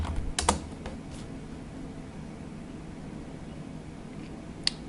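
Typing on a computer keyboard, a short burst of key clicks at the start followed by a quiet hum and one late click, close and faint, with no talking.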